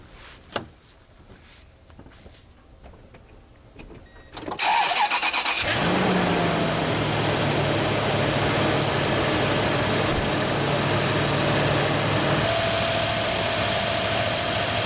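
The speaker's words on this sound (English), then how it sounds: "the truck should start back up and really have no check engine light or codes" A 2003 Toyota Tundra pickup engine with new spark plugs cranks briefly after a few quiet clicks, catches and settles into a loud, steady, slightly high idle with a constant hum that continues to the end.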